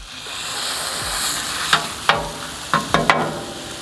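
Sausage being smashed onto a Napoleon stainless steel griddle: a soft steady sizzle with several sharp scraping metal-spatula clacks in quick succession near the end, close and moderately loud, without talking.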